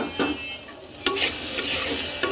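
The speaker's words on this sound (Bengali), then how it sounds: "এবার এটাকে সুন্দর করে কয়েক মিনিট ভেজে নেব" Chunks of katla fish and cut potatoes fry in a spiced pan, a steady close sizzle broken by a few sharp scrapes and clatters of stirring.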